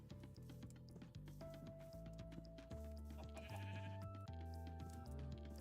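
Sheep on a video game wool farm bleat repeatedly, several overlapping calls at varying pitches in quick succession over a steady background, with no talking.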